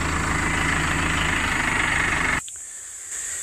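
A heavy tractor engine idles loudly with a steady low throb, then cuts off abruptly, leaving a faint hum.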